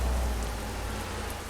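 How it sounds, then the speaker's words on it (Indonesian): Rain falling on a village road in Euro Truck Simulator 2, a steady soft hiss of rainfall over a low engine drone, moderately faint with no voices. "Nah, di jalan desa nih waktu cuaca hujan."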